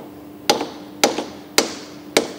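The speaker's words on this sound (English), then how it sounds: "the best thing is two hammers" Two hammers strike a fitting on a Cummins 12-valve 6BT diesel engine, one held underneath and one hitting on top: four sharp metallic blows at an even pace, loud and close, with no talk.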